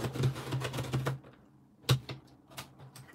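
A blade cuts through a paper mandala in quick, dry scratchy strokes, a rapid burst followed by a pause and then a few more sharp cuts, close and fairly quiet.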